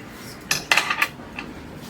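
A knife and a plate clink against each other while a tray of Mysore Pak is flipped, giving a few sharp metallic clatters in quick succession and then a lighter tap, close up, with no voices.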